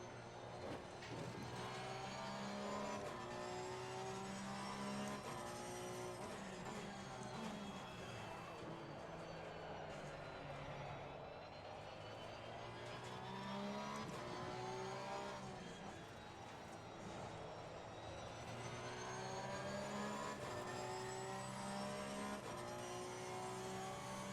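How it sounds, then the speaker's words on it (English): A Porsche race car in Assetto Corsa Competizione at Spa drones steadily close by, its engine pitch rising and falling through gear changes alongside the player's own car noise, continuous and loud for the whole stretch. "Porsche closing up behind me quite fast."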